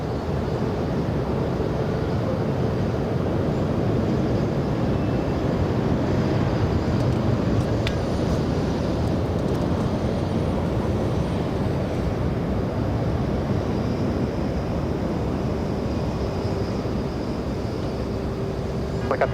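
A Southwest airliner takes off from runway 24 left at Los Angeles International Airport, a steady broad jet-engine roar heard from a distance that holds throughout with faint intermittent tones on top.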